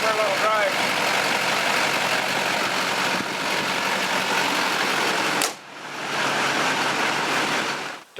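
A Duramax diesel truck engine drones steadily from inside the cab on a test drive, a loud continuous rumble that drops off briefly near the end before picking back up.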